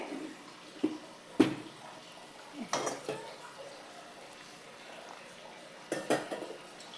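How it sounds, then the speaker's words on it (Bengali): A utensil scrapes and clinks against a pot of fish gravy (dahi parsa) as it is stirred, with a few sharp, spaced-out knocks over a quiet kitchen background. "তাই আমি আগে নাড়িয়ে দেখে নিচ্ছি"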